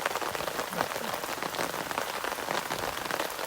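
Rain pelts a camera on a beach walk in North Naples, Florida, a dense, close, steady patter of drops striking the housing, loud and continuous with no voices.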